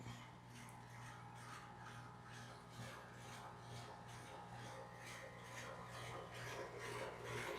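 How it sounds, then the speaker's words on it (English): A steady, broad whooshing hum with a low drone runs throughout, continuous and fairly loud, like an air conditioner running nearby. "Sorry about the noise, that's my AC unit running in the background."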